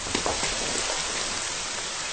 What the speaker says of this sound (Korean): 드디어 빗방울이 들더니 금방 연이어서 장대 같은 소나기가 쏟아지기 시작했다